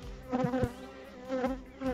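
Honeybees buzz around a beehive on a stormy day, a close, wavering drone with several passes swelling and fading as insects fly near.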